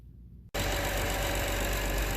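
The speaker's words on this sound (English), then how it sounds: "sorry if it's a little loud, but got the install all wrapped up. Car's running." A 2011 BMW 135i with the N55 engine, just fitted with a WOT Box, fires up after a brief near-silence and settles into a loud, steady, close-up running drone.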